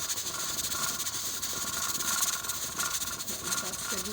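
A pressure canner's jiggler rocks on a stovetop, hissing steam in a continuous close rush with faint rhythmic rattling running underneath.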